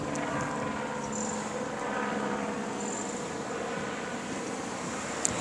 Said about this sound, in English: I want you to hear this helicopter activity.